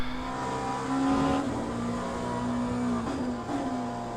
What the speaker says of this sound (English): Ferrari 499, on the way.